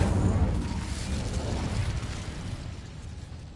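An Incendio fire spell bursts in Hogwarts Legacy with a loud, whooshing blast that rumbles briefly and then fades into a diffuse roar.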